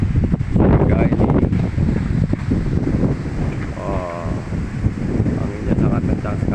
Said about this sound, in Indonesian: Ini anginnya sangat kencang